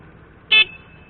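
A single short, high motorcycle horn beep sounds once against a quiet background hum at night, lasting barely a tenth of a second.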